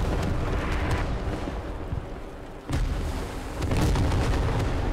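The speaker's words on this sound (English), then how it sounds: "The explosions are coming down right now." Airstrike and artillery explosions in the tactical shooter Squad during a competitive match, rolling heavy booms and rumbling blasts that stay loud throughout, with one sharp impact near the middle and another swell toward the end.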